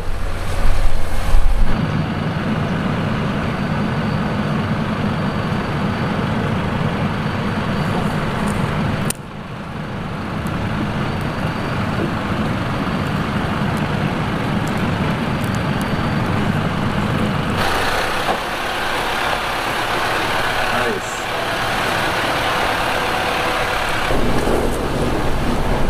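A Mercedes Unimog truck grinds up a steep hill, its engine a steady, loud drone under continuous road and wind noise, with a brief dip midway and a shift in tone near the end.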